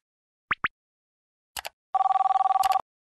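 Telephone tones: a couple of short chirps, a short burst, then a rapid trilling electronic ring lasting about a second, clear and isolated against silence.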